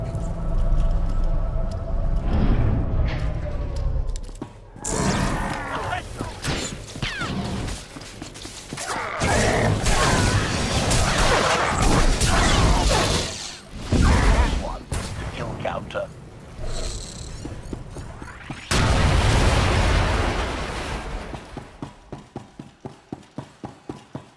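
Cannon fire and explosions from the Star Wars online video game boom in dense, loud bursts with brief lulls, ending in a rapid rhythmic series of repeating shots that fade away.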